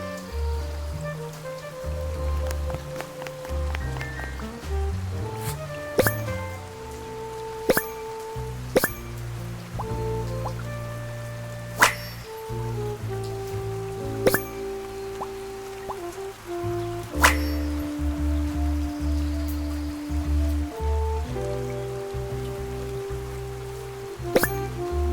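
Rain falls in the Duck Detective game with scattered drips and patters, mixed with sustained musical tones and occasional sharp plinks over a long, calm stretch.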